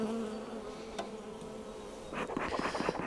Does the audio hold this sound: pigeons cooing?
no